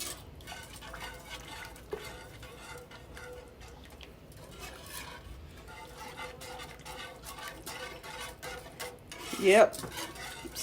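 Brown gravy with liver and onions stirred in a pan, soft repeated scraping and rubbing strokes with a gentle simmer beneath, close and fairly quiet, ending in a louder clatter; a voice briefly answers once.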